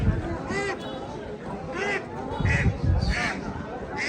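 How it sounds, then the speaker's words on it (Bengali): Ducks at a village duck market in Narsingdi quack repeatedly in short bursts, fairly close, under steady crowd chatter and people talking nearby. "সব ধরনের হাঁস পাওয়া যায় এখানে।"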